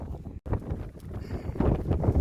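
Wind buffets the microphone in rough, rumbling gusts near the summit of Mt. Katahdin, with a brief dropout and louder bursts toward the end.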